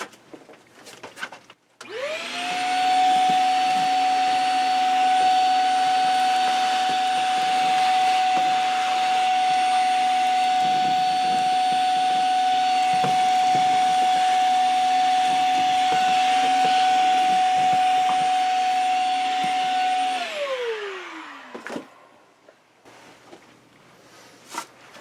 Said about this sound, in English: let's vacuum that up